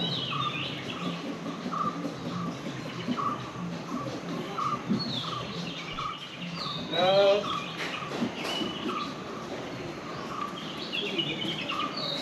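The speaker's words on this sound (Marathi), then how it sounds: "पक्ष्यांचा आवाज." Village birds call in the evening in rural Ratnagiri, Konkan, chirping and twittering at moderate distance over a steady ambient hum, with a brief louder burst of calls partway through.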